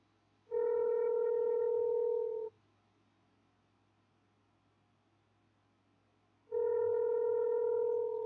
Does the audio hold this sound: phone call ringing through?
yes